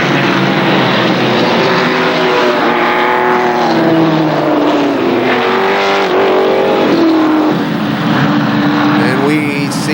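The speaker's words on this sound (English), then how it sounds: "The cars come down across the stripe." ARCA SuperCars race along the KilKare Speedway oval, a loud, continuous engine roar from a pack of cars passing close by, with rising and falling engine pitches as they sweep across the line.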